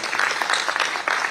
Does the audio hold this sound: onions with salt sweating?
no